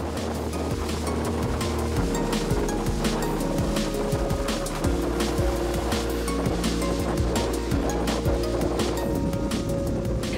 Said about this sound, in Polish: Łódź nabiera rozpędu.